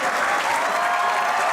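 A studio audience at an Eid special comedy show bursts into dense, steady applause, loud and close, with no pause for the whole short burst.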